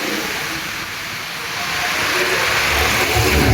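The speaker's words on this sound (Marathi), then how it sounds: "त्या जागी आता लाटा मारा लागले पूर्ण फुल पाण्याखाली गेलेलं आहे" Floodwater in Pandharpur surges over a fully submerged bridge, a steady broadband rushing roar that swells louder toward the end, with no talk over it.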